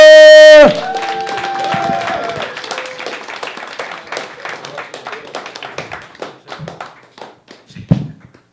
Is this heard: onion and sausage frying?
no